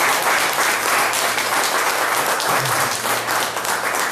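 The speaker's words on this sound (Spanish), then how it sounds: "Den un aplauso fuerte al Señor." A church congregation applauds loudly and steadily, a continuous dense clapping that holds for several seconds with faint murmuring underneath.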